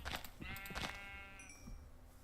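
A Minecraft sheep in the Better Than Wolves mod lets out a single bleat, clear and close over a soft game background, with no talk.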